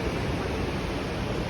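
Steady rushing water from the waterfalls at Blagaj, Bosnia: a dense, even roar that fills the clip with no breaks, close by and fairly loud, with no voices.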